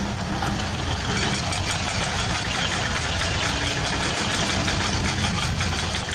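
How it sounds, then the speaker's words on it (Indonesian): A heavy construction machine's engine drones steadily throughout, a dense, unbroken, discordant mechanical rumble with no pauses. "Deru suara mesin alat berat yang sumbang menjadi makanannya sehari-hari"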